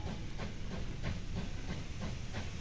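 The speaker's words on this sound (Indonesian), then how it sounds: "aku naik kereta warna hijau, guys, keretanya" Green train running at full speed in the Wobbly Life video game, a steady rumbling hiss with a regular clickety-clack rhythm, continuous and fairly loud with no talking.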